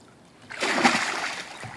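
A child dives into a pool off a diving board and makes a small, brief splash. It is close and moderately loud, with a short slosh of water afterwards.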